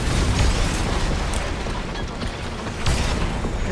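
Gunshots strike mech armor in the Armored Core VI: Fires of Rubicon arena, a loud, continuous roar of impacts and bursts with a sharper hit near the end.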